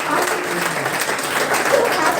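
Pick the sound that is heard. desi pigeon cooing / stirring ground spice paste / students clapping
students clapping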